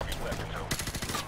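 Gunfire in the Modern Warfare Remastered campaign, a short burst of rapid shots mixed with game noise and a voice exclaiming over it.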